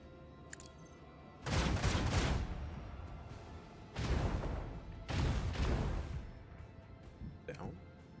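Bursts of strafing gunfire from a Warhammer 40k Rogue Trader battle come in three loud, sustained volleys separated by short pauses, with faint game sounds between them.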